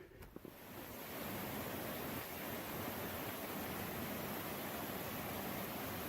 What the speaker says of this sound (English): This is the stream I got my water out of.